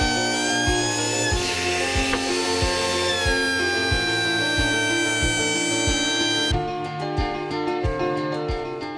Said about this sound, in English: This is a carving disc.